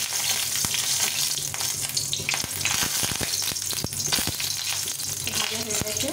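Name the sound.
dried red chillies frying in hot oil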